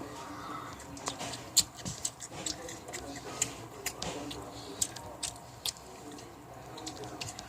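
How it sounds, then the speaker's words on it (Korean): Snow crab being eaten up close: quiet cracking of shell, soft chewing and squishy bites, with scattered sharp clicks over a low room background. "오늘은 대게를 먹어볼 게요"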